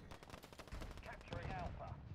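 Bursts of rapid automatic gunfire crackle in a Call of Duty match, short and fairly faint.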